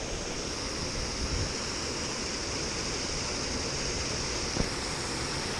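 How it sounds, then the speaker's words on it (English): Waterfalls and fast-moving water pour through the Sidecutt canals, making a loud, continuous roaring rush that stays steady throughout, close by and heard alone without talk. "Got these waterfalls."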